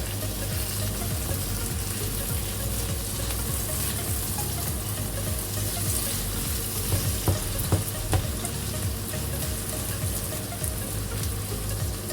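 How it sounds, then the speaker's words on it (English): Leek and eggs frying in a pan and being stirred, a dense, loud, continuous sizzle close by with occasional scraping and clicking of the utensil against the pan, no voices. "Let me stir it once again."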